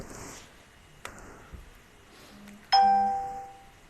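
A single bright electronic ring from a phone sounds after a few faint knocks and taps, one sustained chime that rings out and slowly fades. No one is talking.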